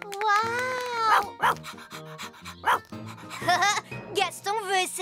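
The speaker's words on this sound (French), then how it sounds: "Rex est un chien de berger." Cartoon sheepdog Rex barking and yipping in a series of bright, tonal, voiced barks with short pauses, close and loud, in an animated children's show.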